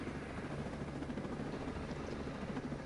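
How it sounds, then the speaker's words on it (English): Helicopter rotor and engine drone in the video game Ghost Recon Breakpoint, a steady low thrumming hum, fairly quiet and continuous with no speech. "here, I'll land the helicopter so you don't die when I fast travel"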